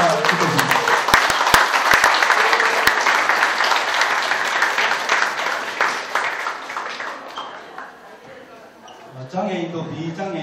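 Loud audience applause welcomes the Gyeongnam provincial chair of the Justice Party onstage at a book concert, sustained clapping fading near the end as a voice begins speaking.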